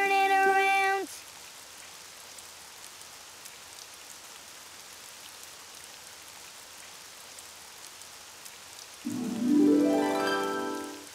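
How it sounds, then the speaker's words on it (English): Steady cartoon rain falls outdoors in an even hiss, with brief musical tones at the start and end. "It's raining outside."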